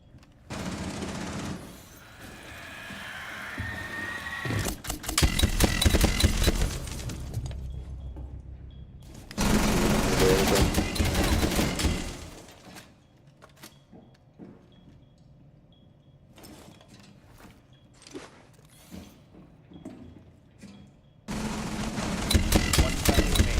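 Rapid automatic fire empties a full magazine in the tactical shooter Rainbow Six Siege. Loud sustained bursts come in several long stretches, split by quieter gaps with scattered clicks and shuffling.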